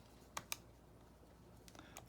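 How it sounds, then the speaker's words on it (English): Quiet, close button presses on a calculator: a quick pair of clicks, a pause, then a few more light taps, alone in a hushed room. "I'm going to type that into my calculator."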